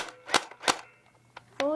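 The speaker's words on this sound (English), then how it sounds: "Semi-automatic," A Double Eagle G36C airsoft gun fires in semi-automatic, giving two sharp close snaps about a third of a second apart, then a fainter click, followed by a voice.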